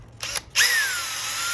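A power drill bites through the vinyl-coated skin of a door during closer and latch installation: two brief taps, then the motor whines up sharply and keeps spinning steadily up close.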